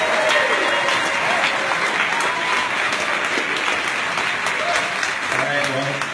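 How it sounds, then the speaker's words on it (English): A crowd at a surf film festival Q&A in Honolulu gives a warm, steady round of applause to welcome the photographer Clark Little, with a voice briefly emerging near the end. "give a huge shout out and warm round of applause to Clark Little"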